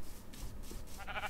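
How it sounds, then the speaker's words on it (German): Sheep bleating in Minecraft, a faint, brief bleat or two under a quiet game background with no talk. "Da sind noch mehr Schafe."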